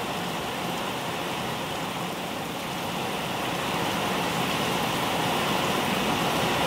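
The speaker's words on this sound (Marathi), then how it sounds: "वारं तेवढंच आहे पाऊस बी तेवढाच आहे." Heavy rain driven by wind pours down steadily outside a house, a dense, loud, unbroken roar of falling water that builds slightly louder toward the end.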